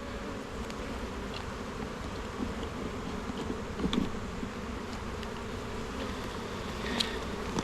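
Dense, steady buzzing of many honey bees at an open hive close by, a continuous drone with the occasional louder bee passing near.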